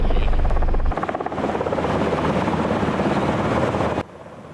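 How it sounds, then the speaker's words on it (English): Loud helicopter rotor thumping close by over floodwater near Hooper, Nebraska, dropping sandbags, a rapid rhythmic chop with wind rush that cuts off abruptly near the end. "Helicopters dropped the bags, hoping to build up makeshift levees."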